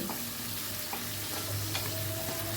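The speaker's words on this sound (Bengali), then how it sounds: "গোটা জিরেটা যখন একটু ফ্রাই হয়ে গেছে তখন কেটে রাখা পেঁয়াজ কুচিটা আমি দিয়ে দিলাম।" Chopped onions and whole cumin seeds frying on a high flame, giving a dense, close sizzle with constant stirring scrapes in a short burst, no voices.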